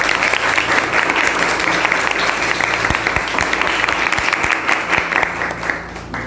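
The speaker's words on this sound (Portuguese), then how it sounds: "E se tiver com uma salva de palmas" An audience at a school mental-health event in Arenápolis, Mato Grosso, gives a round of applause, dense sustained clapping that carries on strongly before tapering slightly at the close.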